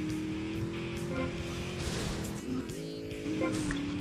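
Race car in the video game GTA Vice City, engine droning steadily at high revs with tonal shifts as it changes gear, plus tire squeal and skidding noise throughout.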